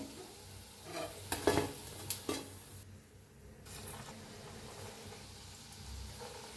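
Pakoras (bhaji) deep-frying in a pot of oil, a faint steady bubbling hiss with a brief cluster of metallic clinks from a slotted spoon early on, heard from close but at low volume, without talk.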